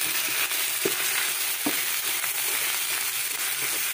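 Ground pork hitting a hot pan with garlic and onion, a steady bright sizzle with a few stirring knocks and scrapes, close and alone.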